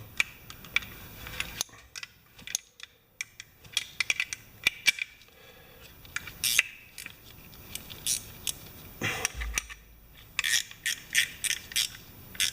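Wrench or ratchet work loosening bolts on the drive system of a Mastercraft MTD snowblower, with irregular metallic clicks, rattles and clinks close by, bunched into short bursts separated by pauses.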